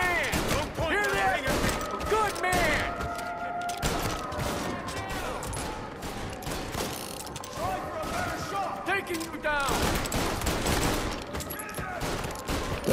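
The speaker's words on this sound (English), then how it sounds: "This recoil on the guns is terrible." Rapid gunfire bursts from guns in the Mafia video game, loud and repeated in shaky volleys with mechanical clatter, while voices talk over the shooting.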